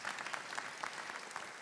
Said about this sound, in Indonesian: Tepuk tangan buat Bu Herlin.